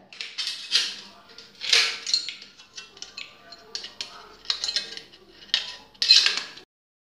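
Tin snips cutting round metal ceiling trim (tabica) in a series of quick crisp snips and clinks, some close and sharp, some lighter, arriving in bursts roughly every half second with short pauses between.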